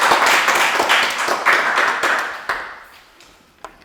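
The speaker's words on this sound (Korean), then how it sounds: "박수로 환영해 주시기 바랍니다." An audience at a Korean political communication society forum claps to welcome a speaker, a loud dense round that gradually thins and fades, ending in a few scattered last claps.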